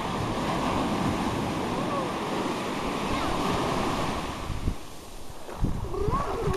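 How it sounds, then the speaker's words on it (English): Surf rolls and breaks continuously on the ocean beach at Kill Devil Hills, North Carolina, a loud, wind-buffeted wash of waves with a few brief bumps near the end. "We're at the ocean, Kill Devil Hills, North Carolina."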